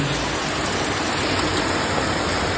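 Steady heavy rain from a low-pressure system falls in an even, unbroken hiss throughout, loud and close, with no voices.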